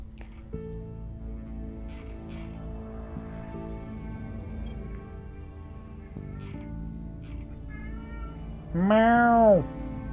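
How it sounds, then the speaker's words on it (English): A pet cat meows in the background, with one loud, drawn-out meow near the end standing out clearly above a steady bed of game music and ambience. "I don't know if you can hear Luna meowing, but she's going fucking nuts"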